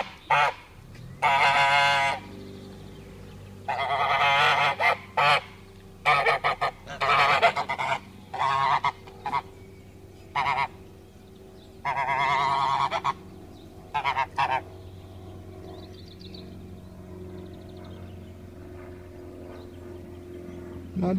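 Geese honk repeatedly in loud, raucous bursts, several birds calling close by over a steady low background hum, then quieter for the final seconds.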